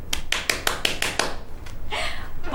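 A person makes a one-handed clapping sound, a run of about seven sharp, evenly spaced slaps, followed by a brief rustling burst; no one speaks.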